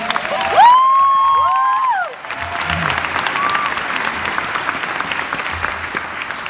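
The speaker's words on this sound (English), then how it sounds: "can I have another round of applause for the Westminster class of 2019?" Graduation applause for the Westminster class of 2019 from a large crowd, with a loud burst of clapping and a shrill whistle early on, then steady, dense clapping and cheering continuing to the end.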